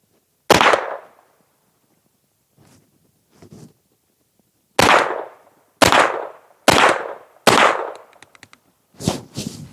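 A 9mm pistol-caliber carbine fires Capital Cartridge remanufactured 115-grain rounds at a range: sharp, loud cracks one at a time, with a few quicker follow-ups and short pauses between shots.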